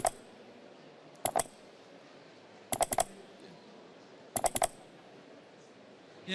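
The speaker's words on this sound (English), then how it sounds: "Mouse click, right?" Three quick bursts of two or three sharp mouse clicks, evenly spaced about every second and a half, stand out against a quiet room hum with no talking.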